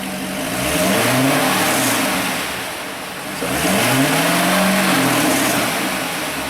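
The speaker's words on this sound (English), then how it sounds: "Give her a couple rev ups there." A C6 Corvette sports car engine with factory exhaust revs up twice, rising and falling in pitch with a throaty roar, close and loud, with no talking.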